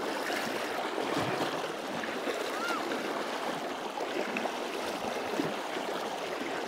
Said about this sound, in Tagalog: Lakas ng current.